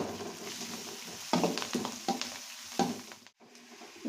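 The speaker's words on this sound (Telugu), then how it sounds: "ఎర్రగడ్డ వేస్తున్నానండి. ఆయిల్ పసుపు వేస్తున్నా మగ్గేకి." Red onion stirred into hot oil with turmeric and cumin and mustard seeds sizzles softly in a pan, broken by a few louder scraping stirs and a brief silence.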